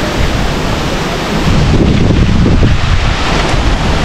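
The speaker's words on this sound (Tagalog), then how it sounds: "Kusog ang hangin ron," Strong wind roars and buffets the microphone continuously, with a deep rumbling gust swelling midway; no voices.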